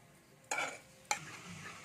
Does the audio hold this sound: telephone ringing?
no